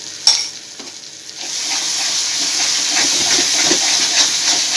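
Mutton liver masala with curd frying and being stirred in a pan, a steady loud sizzle and hiss with occasional scraping stirs, no talking.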